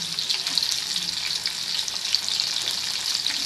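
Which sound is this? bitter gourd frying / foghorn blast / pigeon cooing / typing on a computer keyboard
bitter gourd frying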